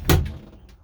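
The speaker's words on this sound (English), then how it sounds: "Sensible sliding door over here." The sliding door in a Challenger S217 Sport Edition motorhome is moved, making one sharp close knock followed by a short fading rattle.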